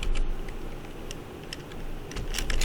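Someone types on a computer keyboard, a run of light, irregular clicks and taps heard over a steady low room hum, with no talking.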